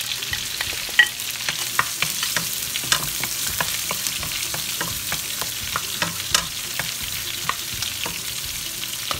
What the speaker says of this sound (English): Saute it until golden brown.